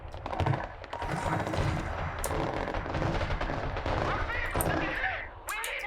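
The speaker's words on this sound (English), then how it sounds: "Sir, the Lithuanian artillery responded." Artillery fire in the video game Broken Arrow: loud, dense booms and blasts rolling on continuously with crackling impacts, mixed with a speaking voice.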